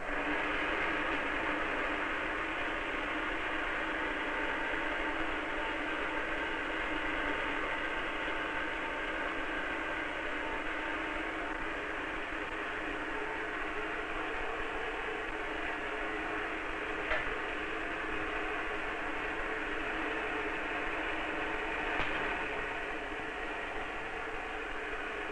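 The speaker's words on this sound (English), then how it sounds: "Start up my charging machine." An electrostatic charging machine in a physics demonstration runs with a steady, even mechanical whir and hiss that holds at constant loudness for the whole stretch, with no pauses.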